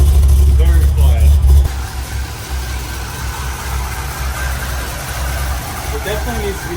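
A Mercedes 190E with a cammed LS V8 swap and a factory M3 muffler idles with a choppy, lumpy, low rumble, loud and close at first, then settling to a steadier, quieter idle.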